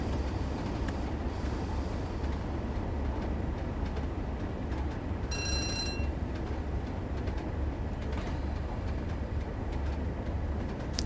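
A train in Train Sim World 3 on the Tees Valley Line coasts with the throttle off, a steady low rumble of wheels on rails with faint clicks and a brief high whistle-like tone partway through, no talk.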